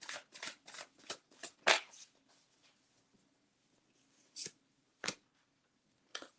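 Tarot cards being shuffled by hand in quick papery riffles and flicks, a burst of several close, crisp strokes followed by a few isolated snaps after a quiet pause.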